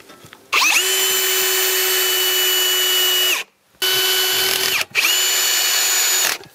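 A power drill drives screws to fix a siding board onto the wooden battens of a facade frame: three loud, whining bursts, the first long and two shorter, split by brief pauses, with nobody speaking.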